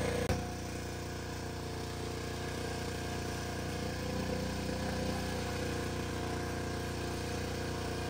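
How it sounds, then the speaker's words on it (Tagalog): A steady engine rumble of motorcycles moving along a nearby road runs throughout, with no voices. "Nakakadaan yung mga motor, oh."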